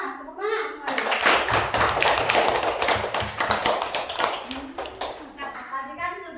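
A classroom full of students applauds together, a dense, loud burst of clapping lasting several seconds that then fades out, with a voice heard briefly before and after it.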